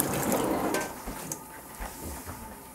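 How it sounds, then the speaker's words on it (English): Baby cabbage is rinsed under a running tap, giving a close, continuous splashing rush of water with a few soft knocks and clatters of handling over a short stretch. "So you wash it."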